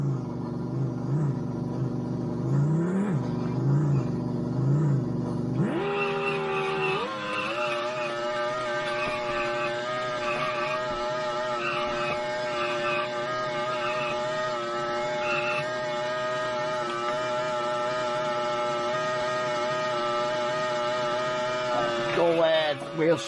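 Spinning tyres on an Amiga 1200 running Geoff Crammond's Microprose Grand Prix: a low engine tone jumps into a loud, sustained high-revving buzz with steady harmonics that holds for nearly twenty seconds.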